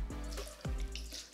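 Heavy-duty degreaser poured from a bottle over an e-bike chain and cassette sitting in a tray, giving a steady close splashing pour with two brief louder gushes.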